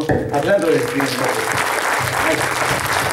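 Audience applause at a talk, a strong steady clapping from a crowd that continues while someone speaks over it.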